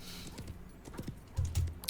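Horse hooves clip-clop in the Wild West Online video game, a few quiet, uneven steps followed by two heavier, louder thuds near the end, with faint background ambience.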